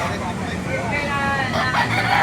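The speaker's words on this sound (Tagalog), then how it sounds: "Ganda mga manok" A rooster crows partway through, its drawn-out call rising over a noisy outdoor backdrop with other birds and indistinct voices at a chicken market in Baliuag, Bulacan.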